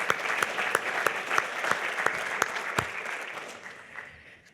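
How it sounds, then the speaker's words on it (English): Conference audience applauds with a crisp, even patter of many hands, a few sharper claps standing out, holding steady and then tapering off near the end. "Please give him a round of applause."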